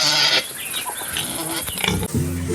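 Chickens cluck and squawk close by in a busy farmyard with goats, ducks and pigs, other birds and animal noises mixing in; a loud burst opens and another closes the clip.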